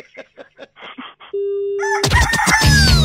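A rooster's cock-a-doodle-doo rings out in a Mirchi 98.3 radio jingle for the Mirchi Murga show. It follows a few short vocal bursts and a steady held tone, then erupts loud and dense to the end.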